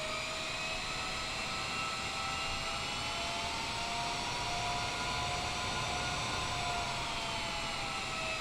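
A Boeing 787 jet engine in Microsoft Flight Simulator 2020, heard as a steady, unbroken roar with a faintly wavering high whine layered on top, holding even and loud throughout.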